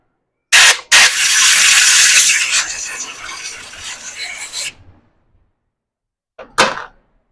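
A Ducati 900SS brake caliper is scrubbed clean by a gloved hand: a loud, close rasping rub lasting about four seconds, fading off, then silence and one short scrape.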